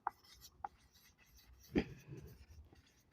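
A pen scratches across a notebook page while an answer is being written, with a few soft isolated strokes followed by a firmer scribble, close and quiet.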